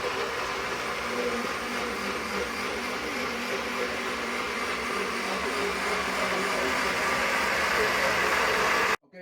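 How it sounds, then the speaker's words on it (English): A blender runs steadily, whirring loud and close as it purees orange, lemon and ginger with water for a homemade immune drink, then cuts off at the very end. "I'm gonna put it in the blender."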